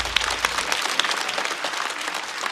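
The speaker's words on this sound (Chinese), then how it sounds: "来，再次把掌声送给王大刀" Steady audience applause from a studio crowd at a stand-up comedy show for comedian Wang Dadao, dense continuous clapping throughout with no speech.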